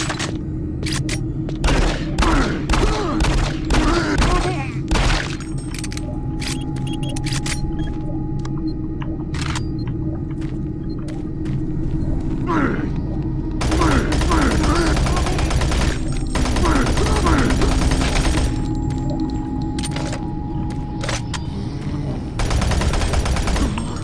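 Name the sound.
gunfire in video game Doom 3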